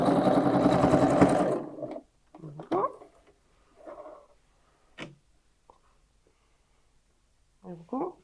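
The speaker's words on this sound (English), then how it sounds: "it's the same thing on the machine. Just pick your longest stitch and just go around just to secure those in place." A sewing machine stitches a reversible pocket tote bag on its longest stitch, running in a loud, steady burst for about two seconds, then giving a few short, separate clicks and stitches.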